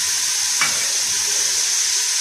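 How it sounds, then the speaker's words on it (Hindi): Chicken frying in a pan with garlic and ginger paste, a steady loud sizzle and hiss throughout, with a brief stir near the start and no voices. "ये मैंने इसमें डाल के इसको अच्छी तरह भून लेंगे"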